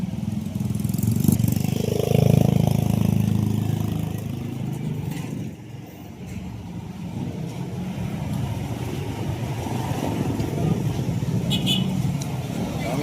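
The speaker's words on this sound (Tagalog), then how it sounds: "Medyo matraffic dito ngayon." Evening road traffic in Barangay Tumana, Marikina, with car and motorcycle engines idling and rumbling close by, a loud continuous low drone that eases slightly midway and is punctuated by faint passing sounds.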